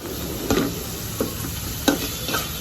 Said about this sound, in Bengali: এবার আমি আবার একটু নাড়াচাড়া করছি